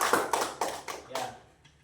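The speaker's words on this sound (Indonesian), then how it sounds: "berikan tepuk tangan kepada penampilan kelompok 1," Scattered hand claps from a classroom of students applauding group performances, a few short bursts of clapping that thin out and fade within two seconds.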